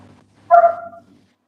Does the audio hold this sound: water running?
no